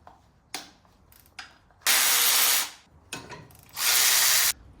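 Power tool whirring out two 13mm bolts on a BMW E36, two sustained close bursts of buzzing rotation with short starts and scraping between them, no voices.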